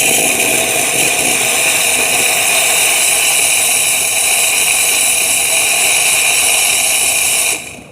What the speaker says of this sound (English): So the steam on this machine, even at 125, it's a very powerful, it's still very powerful, right?